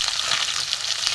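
Ganges fessa fish heads frying in hot oil for a river fish curry, a steady dense sizzle and crackle filling the whole moment with no pauses.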